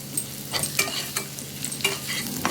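Onion and potato fry in a pan for fish curry, a soft continuous sizzle broken by several quick scraping stirs.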